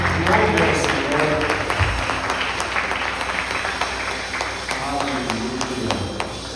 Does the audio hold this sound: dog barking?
no